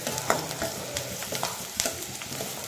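Onions frying in a pan for an egg gravy, a close, busy sizzle with frequent quick stirring scrapes and small clicks of the spatula, no talking.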